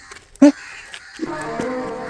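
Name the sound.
crow cawing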